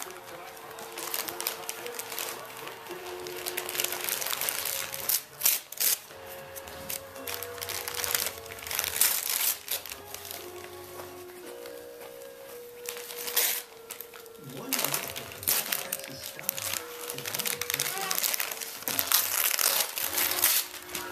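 Wrapping paper on a Christmas present is crumpled and torn off in long rustling, crinkling bursts, close and continuous, while people talk over it.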